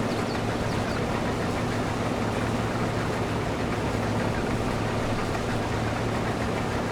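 John Deere combine engine in Farm Sim 22 running at a steady hum, a constant droning rumble with broadband machine noise and no change in pitch, with no speech.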